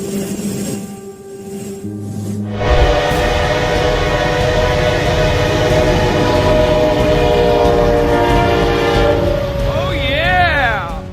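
A heavy train pushes through snow on its tracks, a steady loud rumble and rail clatter with a long sustained horn blast running through most of the clip.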